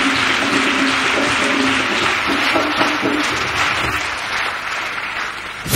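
A church congregation applauds in praise of Jesus Christ, a dense, steady roar of clapping from many hands that carries on for several seconds with a few voices mixed in.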